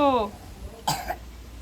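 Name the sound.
child coughing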